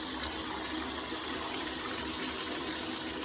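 Water gushes steadily from a tap into a tub being filled for hand washing jeans, a dense, even rushing roar that stays constant and close without pauses or voices.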